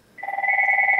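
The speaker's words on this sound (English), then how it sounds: "there's a phone call right in the middle" A telephone rings with an incoming call, an electronic two-tone warble that starts abruptly and holds steady and loud, with no talking over it.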